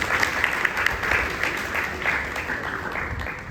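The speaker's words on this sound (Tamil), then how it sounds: "அந்த கலைஞர்களுக்கும் நம்ம ஒரு கரகோஷத்தை கொடுப்போம்" An audience at a devotional bhajan and namasankeerthanam gathering applauds the harmonium and tabla accompanists with steady, dense clapping that holds at a fairly loud level throughout without pause.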